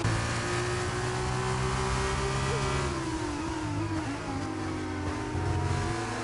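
F2 race cars in a racing video game, several engines droning together at high revs, steady and loud with slight pitch shifts as cars battle closely side by side.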